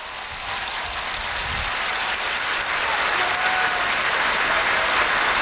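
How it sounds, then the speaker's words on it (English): Massive stadium crowd at Singapore's 2003 National Day Parade applauding, a broad continuous roar of clapping and cheering that builds slightly and holds steady throughout. "Big applause from everybody in the stadium"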